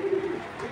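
Racing pigeon cooing at a Bangladeshi pigeon sale, a short soft burst of low throaty coos nearby, fading quickly, no talk.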